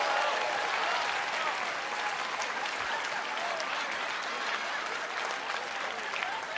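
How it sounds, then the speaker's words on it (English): A concert crowd at a live music awards show claps and cheers in sustained, dense applause that stays fairly even throughout. "So another round of applause for them."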